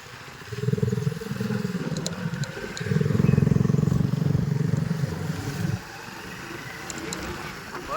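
Heavily loaded vehicle carrying ridge gourds to a market before dawn, its engine droning steadily nearby with a rougher, louder surge midway, then easing to a lower hum, with faint clatter.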